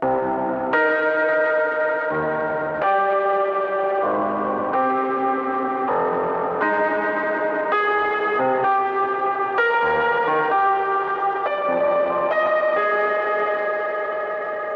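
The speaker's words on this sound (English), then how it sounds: "And then obviously you can blend that in with the reverb." Sustained, bell-like synth chords shift steadily, washed in lush reverb from the Aberrant DSP 'Lair' plugin that blurs each change into a continuous, shimmering tail; no voices.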